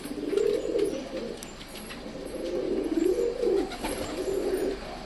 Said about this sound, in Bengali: এগুলো কি পায়রা